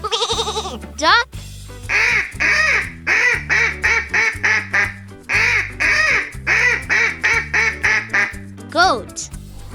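A duck quacks rapidly in many short, nasal bursts grouped in quick runs, loud and near, over background music.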